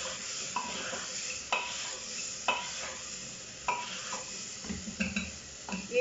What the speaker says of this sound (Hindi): सब्जी मैंने ऐड कर दिया है, इसको अच्छे से मिक्स कर दूँ।